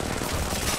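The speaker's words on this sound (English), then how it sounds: "They're shooting at me." Rapid gunfire from Apex Legends Mobile, a brief dense burst of shots rattling together at close range with no talk over it.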